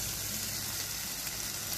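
Chicken sizzles steadily in a pan of hot olive oil with garlic, an even, close hiss with no pauses or voices.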